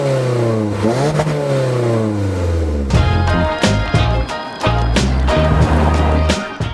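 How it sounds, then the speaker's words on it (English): A 2019 Toyota Corolla Hatch with a 2-liter direct-injected four-cylinder and CVT revs up, its engine note climbing and then holding at a loud, steady drone close by. "You just spike the engine, but you're really not moving"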